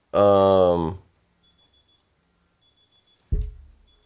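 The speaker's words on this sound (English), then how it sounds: "I have an alarm like this" An electronic alarm beeps in faint, rapid bursts after a voice ends, with two groups of beeps followed by a sudden low thump.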